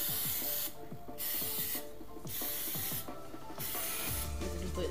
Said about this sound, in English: Get some Pam or oil spray or something.